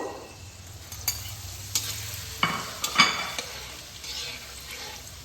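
Cashews lightly frying in a pan for Basanti polau, with a steady sizzle and several distinct scrapes and clinks of a spoon stirring them, close and fairly loud throughout.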